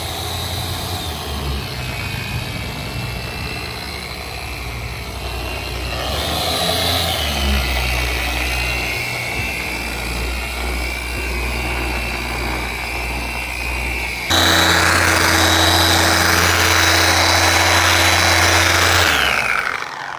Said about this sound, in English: Over here, we're gonna just do two-stage orbital polishing.